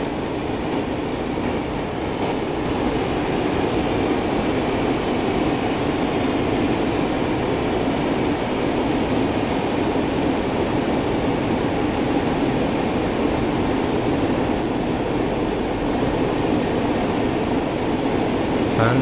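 Train ride in the video game Train Sim World, a continuous steady rumble of a moving railcar interior with broadband wheel and air noise, even and unbroken throughout.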